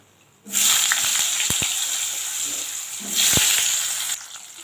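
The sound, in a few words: potatoes added to hot oil with spice tempering, sizzling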